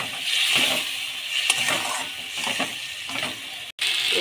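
A splash of water hits a sizzling, fried spice mix of cumin powder in a pan, giving a loud hiss with a few scraping stirs and a brief dropout near the end.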